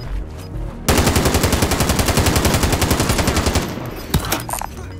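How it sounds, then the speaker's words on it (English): Rapid automatic gunfire in Call of Duty: Modern Warfare erupts loud and close in a dense, sustained burst of several seconds, then fades to a few scattered single shots near the end. "hey, we're being shot at"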